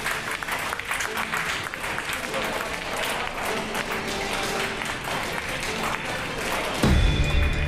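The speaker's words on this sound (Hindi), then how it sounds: "अस्पताल के स्टाफ ने महिला के डिस्चार्ज होने के समय तालियां बजाकर उनकी विदाई की" Hospital staff clapping as a recovered woman is discharged, steady mixed applause with voices talking over it and a low thump near the end.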